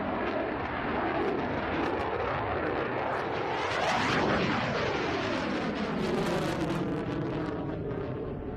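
A large-scale model Wellington bomber flies at the Cosford airshow, its engine droning loud and continuous as it passes, with a pitch shift as it sweeps by overhead.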